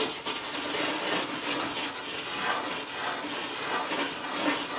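A brush scrubs steadily across cracked aluminum on a jon boat hull, cleaning it before TIG welding, a continuous close rasping with rhythmic back-and-forth strokes and no voices.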